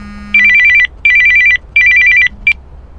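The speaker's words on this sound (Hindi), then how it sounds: "मेरे पुराने थिएटर के सीनियर तपन दा का फोन आया" An old-style telephone rings in three full electronic bursts and a short fourth, loud and close in a quiet room.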